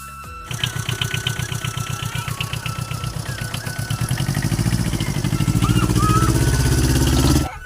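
A motorcycle engine starts and settles into a steady, loud putter, its rhythm quickening slightly as it revs near the listener.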